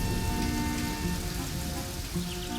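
Steady rain pours down in a dense, constant hiss across the whole stretch, with no breaks or voices.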